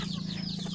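Chickens cluck steadily in a coop kept for selling birds to a collector, a close, continuous murmur of fowl with no talk over it.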